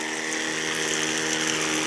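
A small low-cost machine that feeds biological treatment into a drip irrigation line runs steadily, giving a continuous pump-like whir with flowing water, close and with no talk.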